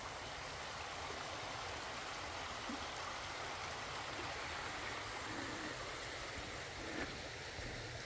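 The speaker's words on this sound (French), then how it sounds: "Je te présente la rivière la Vénage." The Venoge river flows with a constant soft rushing wash, unbroken and fairly distant, with no voices.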